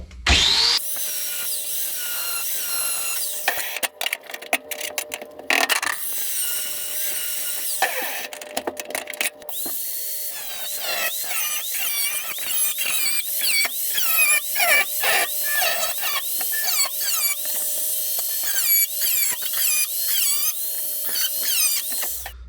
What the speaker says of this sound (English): So let me get rid of this little spot weld, and we'll move on from there.